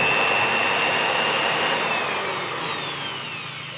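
A hand tool works steadily against a door bolt seal to smooth it, giving a continuous close abrasive rubbing that fades slightly toward the end, with no talk over it.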